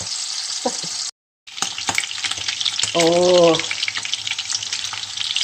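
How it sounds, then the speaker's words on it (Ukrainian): Pork ribs fry in a pan for cabbage with ribs, giving a loud, steady crackling sizzle throughout, with one brief gap and a short spoken exclamation. "ребра піджаруються. Чуєте, як шкварчать?"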